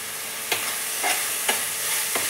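Tomatoes frying with salt in a pan for a spicy chicken roast, a steady soft sizzle broken by four scraping stirs at even intervals, close up with no talking.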